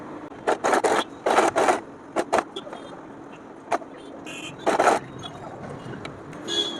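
A sewing machine stitching fabric for a small doll dress, running in short irregular bursts of rapid whirring separated by pauses, close and moderately loud.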